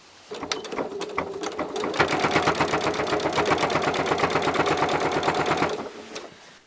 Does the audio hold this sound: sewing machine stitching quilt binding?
yes